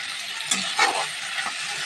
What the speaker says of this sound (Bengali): ভালোভাবে মিশিয়ে নিচ্ছি মশলাটা ভালোভাবে কিন্তু আমরা কষিয়ে নেব